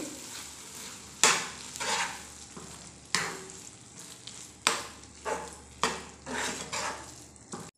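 A spoon stirs an amla mixture with a tablespoon of lemon juice in a pan just taken off the gas flame, giving repeated scraping strokes with soft sizzling between them, close and fairly loud, no talk.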